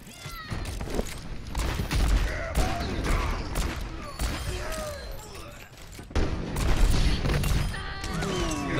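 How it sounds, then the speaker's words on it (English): A very loud explosion in the video game Platinum Zen hits with a booming crash, followed by scattered bangs and gunfire-like rattles. A voice talks over parts of it. "Really loud explosion."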